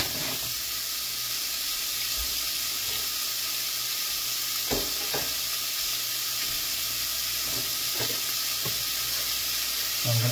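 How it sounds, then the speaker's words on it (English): Browning food stirred in a frying pan on a home stove gives a constant close sizzle, broken by scattered utensil scrapes and knocks against the pan. No voices are heard. "Stir this around. Okay, you can see it's browned up a little bit."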